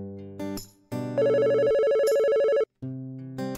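A phone ringing in the Roblox game Brookhaven, a loud electronic ringtone with bright repeating tones that sounds in clear bursts separated by short gaps, with no voices over it.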